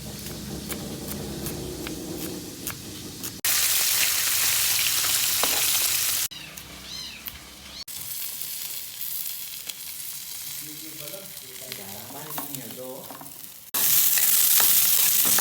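Galunggong (round scad) fish frying in a pan for breakfast, a steady loud sizzle and spatter filling the clip, with louder bursts when the pan is disturbed and some kitchen clatter in between.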